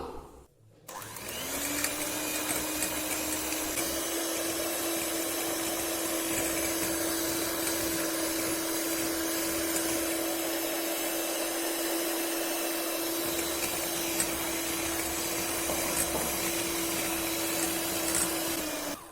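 An electric mixer beats egg whites with sugar for a spongy chocolate cake, running as a steady, loud, continuous whine with a constant pitch for nearly the whole stretch after a brief quiet start.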